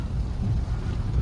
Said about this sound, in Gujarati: પાણી જો ઉડી છે સાઈડમાં